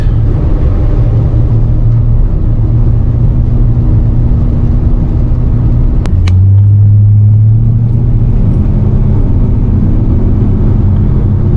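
A 1973 GMC C2500 camper truck with a 454 big-block V8 cruising steadily, a loud continuous engine drone and road rumble heard from inside the cab, with a brief click and a slight shift in pitch midway.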